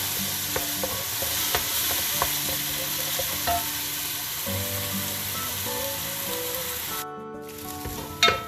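Chicken curry ingredients are stir-fried in a pan: loud, continuous sizzling with scraping spatula strokes and a brief hiss burst near the end, close and without speech.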